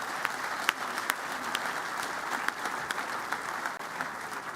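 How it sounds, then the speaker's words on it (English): Sustained applause fills a crowd at an on-campus university stadium groundbreaking celebration, with steady dense clapping and a few sharper claps standing out, heard alone without speech. "Let's give them a big round of applause."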